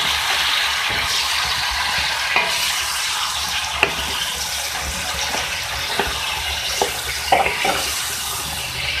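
Cut eggplant is being stirred into vegetables frying in a pan for an aloo baingan bhindi sabzi, with a steady loud sizzle and a spoon scraping and knocking at irregular intervals, close up.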